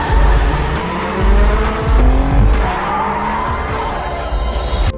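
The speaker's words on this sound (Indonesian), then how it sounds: "Scene kemudian tiba-tiba langsung berubah menjadi perlombaan balapan antara Sean dan Morimoto yang telah mereka sepakati" Street race cars drift in a Tokyo car-park race scene, engines roaring loud and close with revving surges and tires squealing in long skids, the noise rising and falling as the cars slide past.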